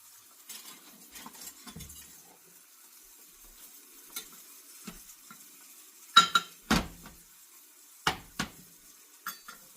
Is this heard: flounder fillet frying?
yes